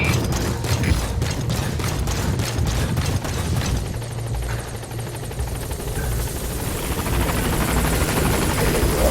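A military helicopter arrives at a landing zone in Metal Gear Solid V, its rotor chopping loudly in rapid rhythmic beats that smooth into a roaring whine as it settles.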